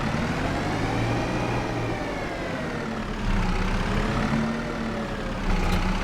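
Tractor engine in the farming game Farming Simulator 25, a steady loud droning rumble with rising and falling tonal whine, continuous throughout without talk.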